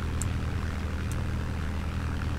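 A propeller airplane engine in the Roblox Plane Game drones loudly and steadily throughout, a continuous rumbling hum with a couple of brief high clicks.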